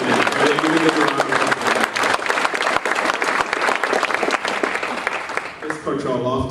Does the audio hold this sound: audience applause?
yes